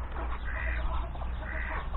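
A rooster shut in an enclosure clucks and mutters steadily at close range, a dense run of low fowl calls over farmyard noise with no clear pauses.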